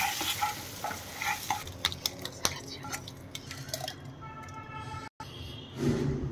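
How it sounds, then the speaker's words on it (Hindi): Cashews being stirred into melted butter in a pan for butterscotch praline, with sizzling and repeated spoon scrapes and clinks against the pan, close and fairly quiet. "इसमें मैं 1 चम्मच बटर डाल दी हूँ और ये काजू डाल देती हूँ 1 बड़ा चम्मच।"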